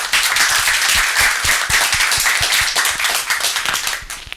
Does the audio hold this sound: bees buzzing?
no